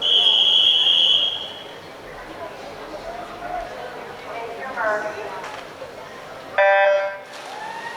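Start signal for a high-school varsity 100-meter backstroke swimming race, an electronic tone ringing out briefly over crowd chatter in an echoing pool hall, preceded by an earlier tone and followed by continued murmuring.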